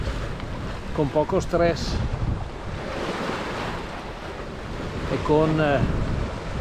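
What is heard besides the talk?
sailboat under sail through waves and wind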